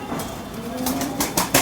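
A pair of pigeons in a fancier's loft gives a soft, low cooing for under two seconds, close by and fairly steady, with a few brighter flutters or rustles near the end and no speech.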